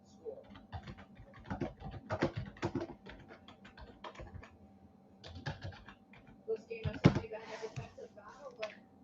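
Someone types quickly on a computer keyboard, with close, irregular clicking keystrokes in bursts and short pauses. A voice talks faintly alongside.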